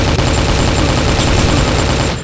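Machine gun fire in the zombie shooter ZIC: Zombies In City, a loud, unbroken stream of rapid rattling shots held steady for a couple of seconds with no talking.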